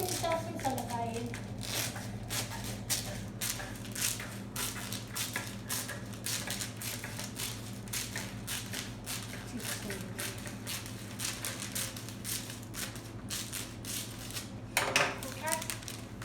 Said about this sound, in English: So come and cut yourself a nice size cellophane.